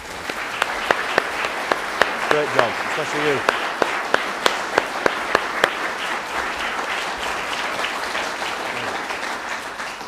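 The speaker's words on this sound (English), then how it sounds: "Could you give them a round of applause?" An audience at an Easter band event gives a sustained round of applause, a steady crowd clapping with a few sharp individual claps standing out, while someone speaks briefly over it.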